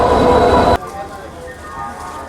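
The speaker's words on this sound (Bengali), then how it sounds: "22 নম্বর প্ল্যাটফর্মে ঢুকছে ক্রিয়া যোগা এক্সপ্রেস।" The Kriya Yoga Express rolls into platform 22 with a loud, close rumble of rail noise that cuts off abruptly, leaving quieter station ambience.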